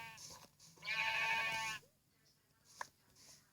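A Minecraft sheep bleats once, a clear wavering baa in the middle, with fainter game sounds and a small click around it.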